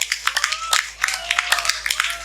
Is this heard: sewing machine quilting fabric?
no